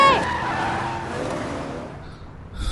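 Tires squeal sharply as a car driven fast as an emergency ambulance skids, followed by a steady, rushing engine and road roar that fades slightly before a low rumble returns at the end.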